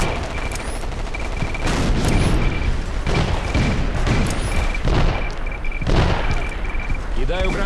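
Heavy battle din from Battlefield 2142 with a grenade thrown and exploding, set among repeated booms and gunfire bursts that thud loudly over several seconds, with voices talking over the chaos.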